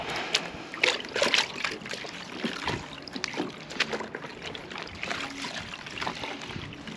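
A roof cleaning brush dipped into a bucket of water while cleaning years of moss off a roof, giving close splashing, sloshing and dribbling sounds that continue steadily throughout.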